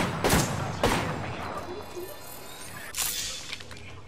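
Three loud shotgun blasts from Apex Legends gameplay ring out, two close together near the start and one a couple of seconds later, each a sharp burst with a ringing tail over a low background rumble.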